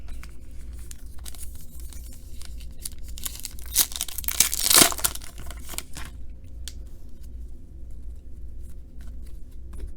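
A 2019 Score football card retail pack is torn open with one sharp ripping burst in the middle, surrounded by soft crinkling of foil wrapper over a low steady background hum.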